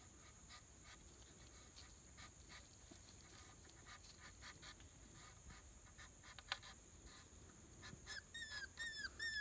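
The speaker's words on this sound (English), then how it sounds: "If you hear that whining, it's a little puppy that we have a new litter." A newborn puppy from a new litter on a rustic homestead whines in thin, high, repeated cries that grow louder and more frequent toward the end, over steady outdoor background noise.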